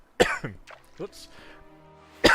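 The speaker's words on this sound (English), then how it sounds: "I coughed until I accidentally pushed a button." A person coughs a few times during a late-night game session, giving sharp, close coughs with throaty vocal bits in between and a final loud cough at the end.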